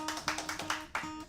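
A small audience claps sparsely at a live acoustic performance, giving several quiet, separate hand claps at a loose, fairly regular rhythm.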